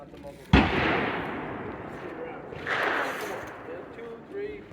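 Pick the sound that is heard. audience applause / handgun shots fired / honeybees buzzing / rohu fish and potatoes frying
handgun shots fired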